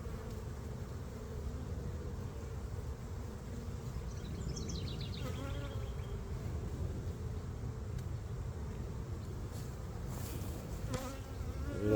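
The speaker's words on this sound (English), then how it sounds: "A lot of bees." Steady, dense buzzing of many honey bees at a hive in an apiary hums close by throughout, with a few brief rustles and clicks over the drone.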